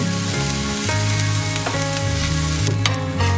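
Oil frying in a pan over medium heat while shrimp taco filling is stirred, giving a steady close sizzle that runs throughout beneath background music.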